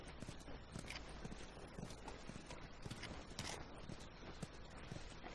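Horse hooves clip-clop steadily in The Last of Us, a dense, continuous patter of several horses walking close by with no talk over it.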